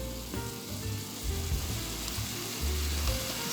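Okra and saltfish cook in a broad pot with a steady, close sizzle and gentle bubbling crackle, with soft low knocks from the pot.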